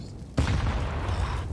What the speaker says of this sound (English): Big nade, though, as he's pushing forward.